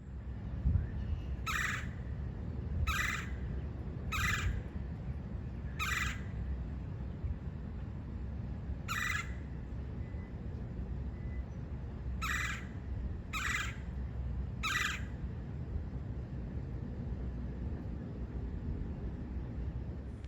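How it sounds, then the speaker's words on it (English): A red-headed woodpecker gives a series of harsh, raspy calls, eight or so short bursts spaced irregularly over a soft outdoor background, fairly clear and moderately near. "We saw a red-headed woodpecker."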